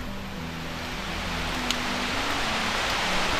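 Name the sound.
heavy rain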